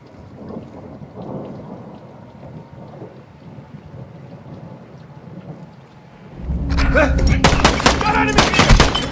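Gunfire in a video game erupts after a stretch of rumbling ambience: a dense, loud burst of rapid shots and crackling impacts fills the final few seconds.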